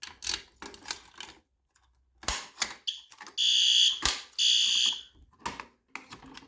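A piercing electronic fire alarm from a newly installed System Sensor P2R horn strobe blares in two long bursts, separated and surrounded by clunks, clicks and rattling handling noises.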